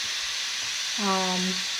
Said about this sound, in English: I'm going to tip this to let the rest of the steam out.